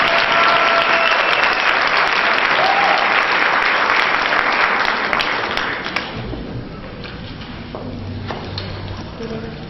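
Dense applause from a church audience at a talent show, loud and sustained for about six seconds before tapering off to scattered claps and murmuring.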